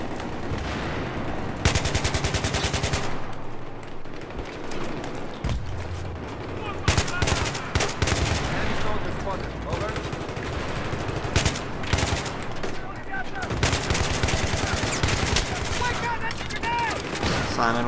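Heavy Battlefield 3 gunfire on a 64-player server, rapid automatic bursts mixed with loud single shotgun blasts, dense and close, with voices talking over the shooting.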